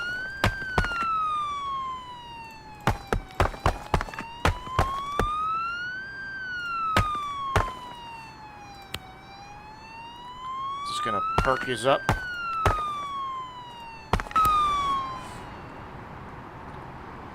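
Wailing emergency siren from the game Global Rescue in Toronto, Canada, sweeping slowly up and down without pause beneath a man's speech and sharp mouse clicks.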